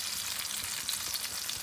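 Salmon fillet frying skin side down in a pan gives a steady, close broadband sizzle that runs without a break and without voices.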